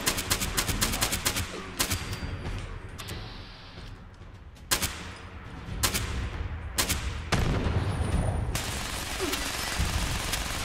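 Gunfire in Fallout 76, with sharp, loud single shots and short clusters spaced irregularly over a dense, busy game backdrop.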